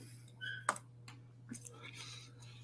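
A computer mouse clicks sharply once, then a few fainter clicks follow in an online best ball draft lobby, set against a low steady hum and soft breathy voice sounds.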